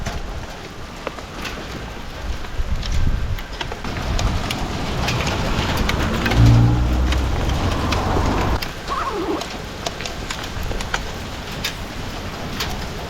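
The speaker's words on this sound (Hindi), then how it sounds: "ओले बरस रहे हैं।" Heavy rain and hail pound surfaces during a storm in the Himachal mountains, a dense, loud, continuous patter with scattered sharper impacts and a low rumble swelling near the middle.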